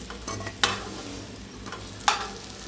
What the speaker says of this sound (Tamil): இப்போ வந்து வாழைக்காய் ஃப்ரை ஆகிடுச்சு நம்ம எடுத்துக்கலாம்